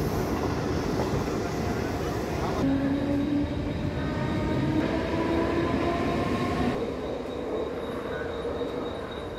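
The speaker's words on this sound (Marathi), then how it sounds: "आता परत ट्रेनमध्ये आलोय आणि पुढच्या स्टेशनच्या प्रवासाला लागलोय" A Mumbai local train on the Harbour line rumbles along at speed, a loud continuous roar with wheel hiss and faint whining tones, heard from inside the carriage.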